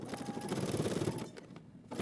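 A sewing machine back stitching a seam on track trousers, a close rapid mechanical whir that runs, briefly pauses, then starts again.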